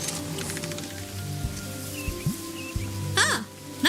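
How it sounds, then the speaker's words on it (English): Steady rain patters and hisses across a rainy day in the video game Moonlight Peaks, a continuous soft wash with a few brief tonal chirps and blips on top. "Yeah, another rainy day."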